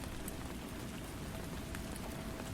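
Steady, dense rain falling on surfaces, an even hiss of countless drops with no break or voice, close and full throughout.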